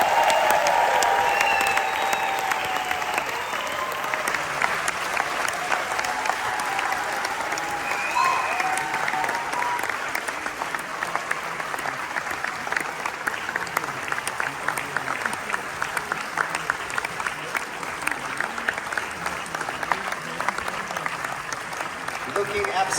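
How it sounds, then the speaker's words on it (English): Sustained, dense audience applause at the Zurich Film Festival welcoming Sharon Stone for the Golden Icon Award, steady and loud throughout with a faint voice near the start. "Give her a warm round of Swiss applause."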